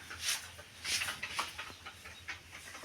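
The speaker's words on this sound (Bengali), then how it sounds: "আর এখানে হচ্ছে আমাদের এই কিং কোয়েলগুলো আছে" King quails in a farm room for fancy birds, faint, short chirping calls scattered through a few seconds over a low steady room hum.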